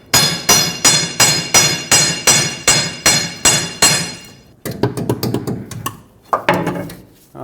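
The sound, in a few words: hammering a control arm bushing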